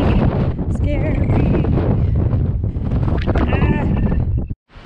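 Wind gusting over a mountain descent in the Adirondacks, loud rushing buffeting across the microphone throughout, with voices and movement noise mixed in, cutting off briefly near the end.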